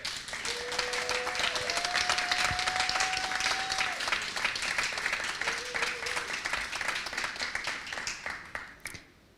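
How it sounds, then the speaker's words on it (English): An audience at a climate conference event applauds people working on adaptation. The clapping is steady and moderately loud, with brief tonal sounds in the background, and it tapers off at the end. "let's give them and everyone around the world working on this important task a round of applause for their commitment and leadership"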